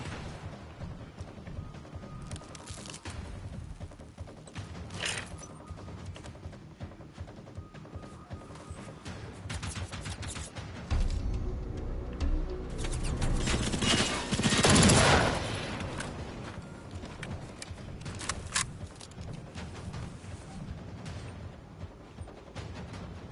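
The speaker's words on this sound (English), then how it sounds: "I guess the upside of this gun is the hip fire is crazy" Gun hip-fired in Generation Zero, bursts of automatic gunfire with scattered shots and a heavy peak of sustained firing in the middle, over a low rumbling game background.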